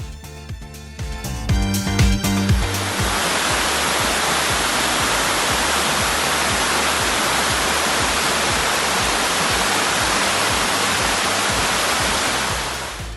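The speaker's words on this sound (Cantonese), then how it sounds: "呢度有一條直不甩嘅瀑布同埋一個水潭" A waterfall pours straight down into a pool, a loud, steady broadband roar that starts abruptly after a few seconds of rustling and stays constant, close by.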